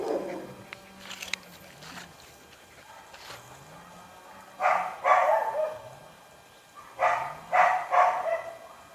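Puppies and dogs, including Doberman, Bullmastiff, German Shepherd, Shih Tzu and Siberian Husky, bark at a kennel dog farm in two loud clustered bursts of several barks each, separated by quieter stretches with a low droning tone.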